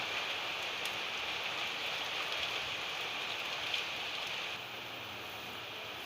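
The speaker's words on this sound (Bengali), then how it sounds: "প্রচণ্ড বৃষ্টি শুরু হয়ে গেছে" Heavy rain pouring steadily outdoors, a dense, even hiss of drops with no pauses and no voices, dropping slightly in level toward the end.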